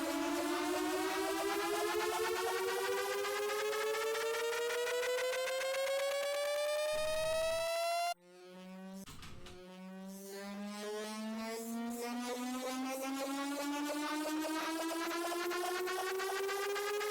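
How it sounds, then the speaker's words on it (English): Synth riser in an electronic build-up, its layered hypersaw tones sweeping steadily upward in pitch, with an LFO wobble; loud and continuous, dropping out abruptly midway before a lower sweep climbs again under a few noisy bursts. "let's just see how this riser sounds in our nice little build-up"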